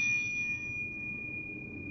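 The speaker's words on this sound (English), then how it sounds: "when he rings it, listen to the sound of the bell." Bell rung in the video game Sekiro, a clear ringing tone that sustains and slowly decays over about two seconds, heard alone at moderate level.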